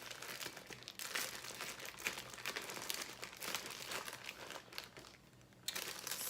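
A box of hair packaging is cut and opened close up, with faint crinkling and rustling of plastic and cardboard in irregular bursts.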